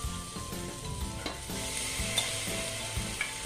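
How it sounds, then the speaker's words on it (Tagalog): Pork ribs sizzle and fry in hot oil with tomatoes for sinigang, a steady close crackle with light stirring scrapes throughout and no talking. "pwede na po nating ilagay ang ating pork ribs"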